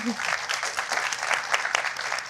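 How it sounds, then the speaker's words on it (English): Audience applause for a panel at an energy transition event, a dense burst of many hands clapping steadily at moderate loudness throughout, with a brief voice at the very start. "Everyone, please join me in giving them a round of applause"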